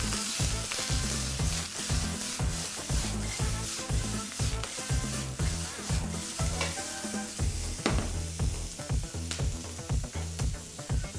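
Chopped onion frying in a pan, giving a continuous bright sizzle with rhythmic, repeated stirring strokes and scrapes, close and fairly quiet with no voices.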